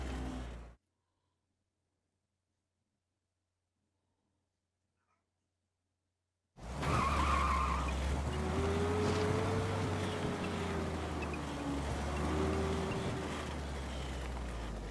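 A car in the video game Mafia pulls away after near silence, its engine rumbling loud and steady for several seconds with rising and falling tones, though no clear tyre skid stands out.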